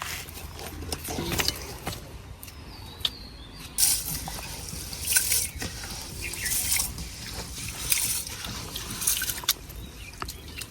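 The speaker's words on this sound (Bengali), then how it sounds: "এখন চালটা আমি ভালো করে ধুয়ে নিগা" Pulao rice is washed by hand in water, with close sloshing and trickling splashes in irregular bursts, some louder surges of swirling water among quieter dribbles.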